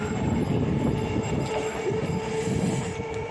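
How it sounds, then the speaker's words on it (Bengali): A ladies special local train rolls through a suburban railway station near Sonarpur, a loud, close, continuous rumble of wheels and carriages with a steady metallic whine and faint rhythmic clatter. "এটা মনে হয় লেডিস স্পেশাল ছিল বেরিয়ে গেল"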